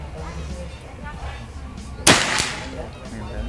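A single sharp crack from a PCP Predator OD 38 air rifle with folding stock and 60 cm barrel, fired at long range, loud and close, briefly ringing out after a quiet stretch.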